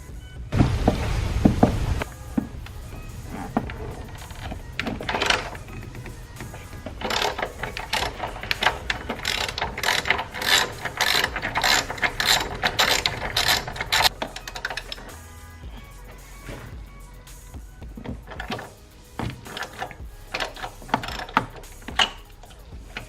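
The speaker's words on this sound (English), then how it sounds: "I'll just undo the other strut bolts." A ratchet undoes strut bolts on a Toyota JZX110 Mark II, with rapid clicking runs of pawl ratchets repeating over twenty seconds, close and fairly loud amid small tool and metal handling noises.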